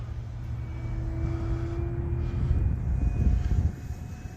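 An RC Sbach model airplane flies close by with a steady engine drone that swells and fades slightly as it passes, a constant mid-pitched tone over low rumble and no voices.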